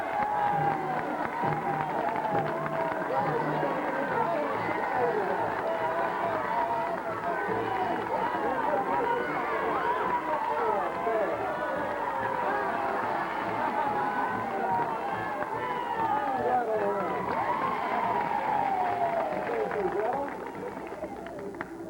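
Audience at a bird show race cheering on the contestants, a continuous roar of crowd voices and shouts sustained throughout.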